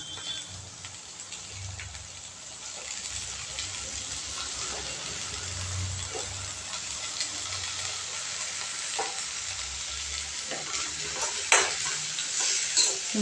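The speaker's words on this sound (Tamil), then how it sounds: "வெண்டைக்காவும் வெங்காயமும் சேர்ந்து நல்லா வதங்கிட்டு இருக்குது." Okra, onion and curry leaves sauté in a pan, giving a steady, rain-like sizzle with occasional stirring scrapes that grows slightly louder toward the end, with no one speaking.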